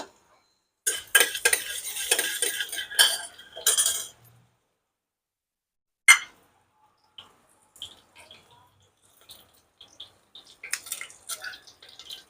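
Garlic goes into hot oil for a ridge gourd stir-fry, giving a few bursts of sizzling crackle and scraping stir strokes, then quieter clinks and taps of a utensil in the pan.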